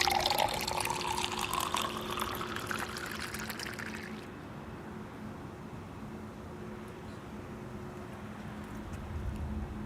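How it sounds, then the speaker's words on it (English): Vodka poured from a bottle into a small glass, a bright gurgling stream lasting about four seconds, close and clear, followed by quiet outdoor background hum near an airport runway. "Let me pour me a small little glass."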